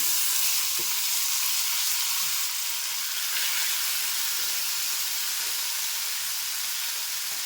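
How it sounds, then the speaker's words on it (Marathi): Chopped tomatoes hit a hot curry-leaf and garlic tempering for a Malvani-style tomato curry, giving a loud, dense, steady hissing sizzle that holds evenly throughout. "टोमॅटो कापून ठेवलेत ना दोन टोमॅटो ते मी टाकते फोडणीमध्ये"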